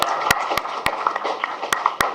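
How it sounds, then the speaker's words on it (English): Scattered hand claps from a handful of people in a board meeting room, sharp isolated claps spaced irregularly over a steady murmur of room noise. "They're clapping"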